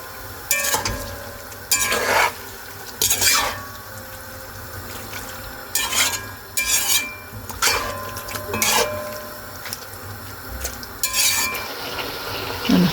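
Vegetables with paprika and spices for lagman are stirred and fried in a pan: continuous sizzling under repeated bursts of utensil scraping and clatter, close and moderately loud, with no speech.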